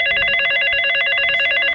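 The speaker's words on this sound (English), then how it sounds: "the kitchen phone rang" A kitchen telephone rings in a steady, bright electronic trill that repeats without pause for nearly two seconds and then cuts off. It is close and loud, with no one talking.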